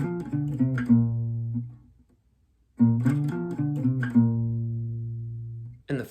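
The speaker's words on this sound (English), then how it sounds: "And all of section 3 would sound like this." Acoustic guitar playing section 3 of a song, two picked phrases with sustained notes ringing and decaying, separated by a short silence, close and clear with no voices.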